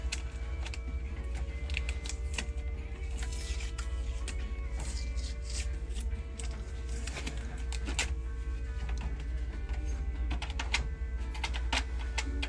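Sharp, irregular clicks from the buttons of a dirty secondhand tape deck bought at a thrift store, with a stuck eject button, over a steady low hum and background noise.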